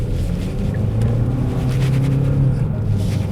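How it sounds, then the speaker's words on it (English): A 2024 Genesis G70 2.5T AWD in sport mode accelerating on the road, heard from inside as a steady, loud low engine rumble with a slight rising drone. "So I'm gonna switch it over to sport. Give it a little bit of gas."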